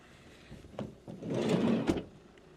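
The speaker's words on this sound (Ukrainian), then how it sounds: "Зараз ми закриємо закриємо наші дверки" A few soft thuds and clunks, then a louder sliding rumble ending in a firm shut, as the rear doors of a 2017 Renault Kangoo Express Maxi van are closed nearby.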